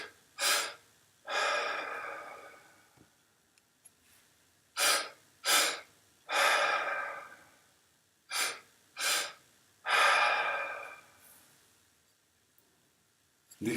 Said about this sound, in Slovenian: 2 vdiha in 1 izdih. Prvi vdih gre v trebuh, drugi vdih v zgornji del pljuč.